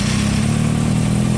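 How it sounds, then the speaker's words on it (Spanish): A sport motorcycle engine runs with a steady, loud, deep rumble close by, holding an even throttle for the whole moment with no other sounds. "La motocicleta esta ruge, tiene su personalidad"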